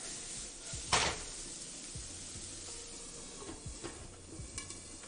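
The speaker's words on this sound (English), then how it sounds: "We're going to cook off this onion just a little bit." Chopped onion with a little salt cooking in a pan gives a faint, steady sizzle, with a few soft scrapes and clinks of a utensil stirring against the pan.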